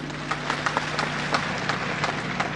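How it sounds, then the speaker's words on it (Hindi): Audience applause at a political speech in Nagpur, 1997: dense, even clapping from a large crowd in a hall, a steady patter of many hands with a low hum underneath and no voice over it. "आप लोगों ने तालियों से मेरी बात का स्वागत किया है।"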